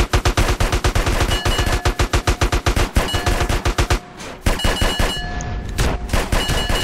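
Rapid automatic gunfire in the video game GTA San Andreas Multiplayer, loud, close, evenly spaced shots in a long burst that breaks into more scattered shots and metallic ringing.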